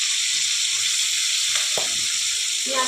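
Black cumin, white cumin and green chillies sizzle steadily in hot oil, cooking for a Bengali bottle gourd and prawn dish. The frying hiss is loud and close, with a brief clatter near the middle.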